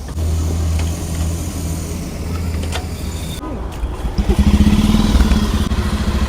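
A Bajaj Pulsar 150 BS6 motorcycle in third gear is bump-started by spinning its wheel, with rattling and clatter before the engine catches and settles into a loud, steady idle close by, with some voices in the background.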